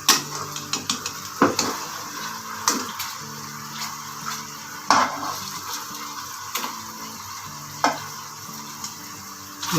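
Steam-roasting chicken is turned over in a pot, bringing a soft steady sizzle broken by repeated knocks and scrapes of a utensil against the metal, moderately close with no one talking.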